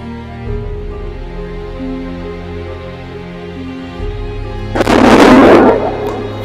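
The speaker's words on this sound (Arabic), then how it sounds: "تكون أصوات الصواريخ والقذائف مرتفعة جدا" A deep, sustained rumble from an Israeli airstrike builds into a loud, broad blast of rockets and shells near the end, heavy and roaring over a low background drone.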